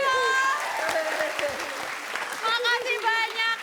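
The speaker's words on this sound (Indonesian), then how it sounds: "Oke, tepuk tangan sekali lagi dong." Studio audience clapping at an Indonesian comedy show, steady applause throughout with people talking and calling out over it.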